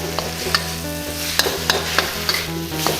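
Drunken noodles being scooped and stir-fried in a pan, with a steady sizzle and repeated sharp scraping strokes of a utensil against the metal, close and loud, no voices.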